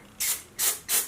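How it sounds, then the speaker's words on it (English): An aerosol makeup spray can fires three short, sharp hisses in quick succession, close and fairly loud, with quiet in between and no voices. "let me do another test spray"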